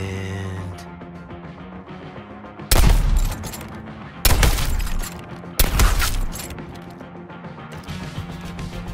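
Gunfire in Suicide Squad: Kill the Justice League comes as three loud, dense bursts of rapid shots, each about a second long, separated by short gaps over steady game background sound.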